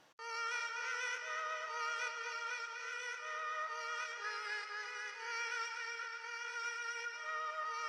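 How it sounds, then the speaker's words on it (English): A bright, high-pitched sustained musical sample plays steadily on its own, shifted up a whole octave, giving a thin, chipmunk-like tone. "took the sample and I shifted it up"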